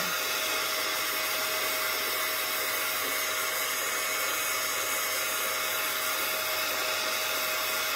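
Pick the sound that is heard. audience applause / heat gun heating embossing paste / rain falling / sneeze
heat gun heating embossing paste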